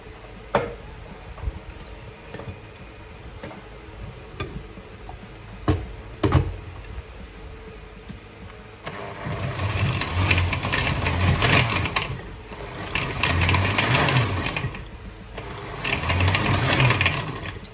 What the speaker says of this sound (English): Alright guys, I'm going to blend the rest.